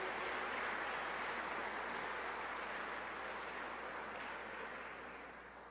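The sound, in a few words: applause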